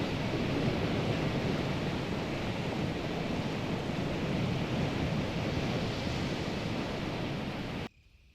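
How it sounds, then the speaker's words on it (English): Distant waterfall near an abandoned mansion, a steady broadband roar holding even for about eight seconds before cutting off abruptly, with no voices. "You can hear the sound of a waterfall in the distance."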